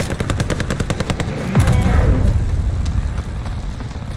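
Rapid machine-gun bursts crack out in Call of Duty Warzone during the Operation Monarch mode, loud and close, then fade into a rumbling blast and lingering noise.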